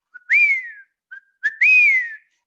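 A person whistles an imitation of a black hawk-eagle call in Panama: two clear rising-then-falling whistled notes, each preceded by a short lead-in note, loud and close with silence between.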